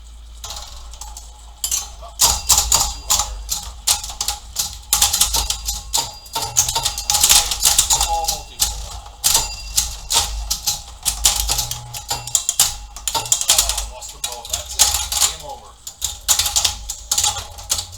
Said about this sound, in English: You see how the zipper flippers go in and out depending on what I hit, and it opens up at the end of every ball.